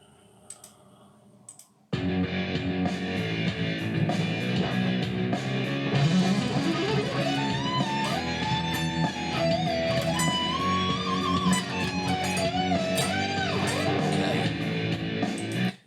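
Electric guitar solo run over a dense backing, with rising bends, slides and vibrato on sustained lead notes, loud and continuous after a quiet opening; no talking.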